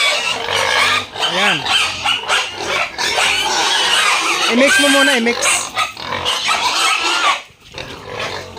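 Hungry pigs in a pen at feeding time, squealing and oinking loudly and continuously close by, while someone talks over the din.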